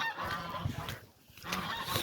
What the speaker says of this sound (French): il y a les oies qui gueulent